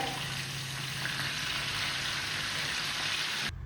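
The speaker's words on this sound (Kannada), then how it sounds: "ತುಪ್ಪ ಪಾಡ್ದು ಒಂತೆ ಫ್ರೈ ಮಲ್ಪುವೆರ್" Kudla-style fish meal ingredients fry in ghee with a steady, close, broadband sizzle that holds even throughout and then cuts off abruptly near the end.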